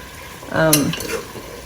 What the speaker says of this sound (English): I'm sauteing the meat.